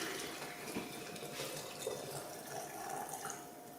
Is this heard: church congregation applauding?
no